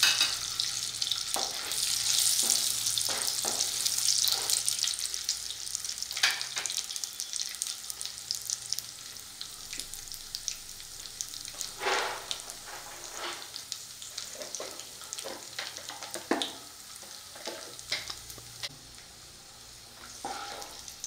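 Raisins frying in ghee for rava kesari make a continuous sizzle, with scattered sharp pops and crackles rising over it, some louder near the middle; no one speaks.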